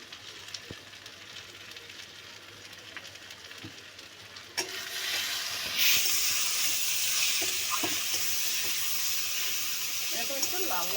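Onions and chopped tomato with salt are stirred in a frying pan for an egg do pyaza, a steady sizzle jumping louder midway with scraping strokes of the spoon, close and unbroken, with no talking.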